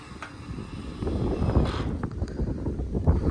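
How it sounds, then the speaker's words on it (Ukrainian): Wind gusting across the microphone outdoors at a roofing job on a small oil mill, a steady low rumble and buffeting that swells midway, with faint mechanical clicks. "У нас вітер"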